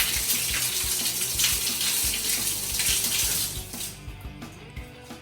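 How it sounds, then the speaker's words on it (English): Shower water bursts from a valve turned on in a bathroom with the shower head off and lying on the floor, a loud steady rushing spray that drops off sharply near the end into quieter trickles and drips. "Let's go ahead and turn that valve on and see what kind of water pressure we got now"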